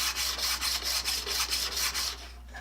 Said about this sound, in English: if I start out with 150 grit on this nice hard steel blade